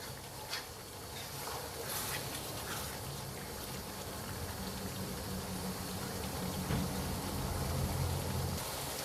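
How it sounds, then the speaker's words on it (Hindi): Mutton keema frying in a karahi gives a steady, dense sizzle as it is stirred, with a bubbling hiss that continues without pause and no talking. "इसको हिलाते जाइए ताकि जल्दी से पानी खुश्क हो जाए।"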